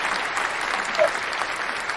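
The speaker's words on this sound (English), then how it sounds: "let's go ahead and give him a round of applause for DeMar Hamlin" Studio audience applause at a live NFL wildcard preview show, a steady even wash of clapping hands that holds for about two seconds with no voices on top.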